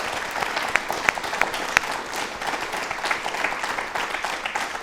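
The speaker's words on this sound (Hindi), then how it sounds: "एक बार तालियां हो जाए" During a televised yoga discussion, the studio audience claps together in a steady, full round of applause, with a few sharper individual claps standing out near the start, with no talking over it.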